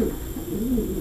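Pigeons in a pigeon loft give low, soft cooing calls, a rolling murmur close by against a steady background hiss.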